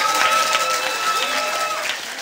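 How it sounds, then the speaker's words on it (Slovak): An audience at a Roma pilgrimage festival in Gaboltov applauds a music and dance group with dense, lively clapping. The applause mixes with crowd voices and a few high whistles or tones, then begins to fade toward the end. "Ešte veľké poklonenie a veľký potlesk."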